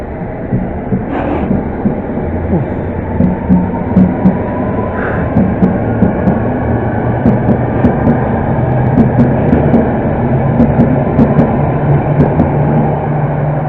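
A London Underground Metropolitan line train from Baker Street to Chesham pulls out of Pinner station. Its rumble is loud, steady and continuous, with faint squeals and rhythmic wheel clatter as it departs.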